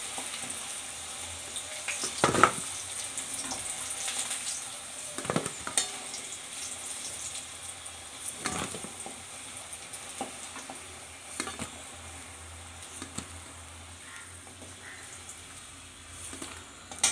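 Six chillies fry in oil with a soft, steady sizzle heard from close up, broken now and then by sharp scrapes and clinks of stirring in the pan.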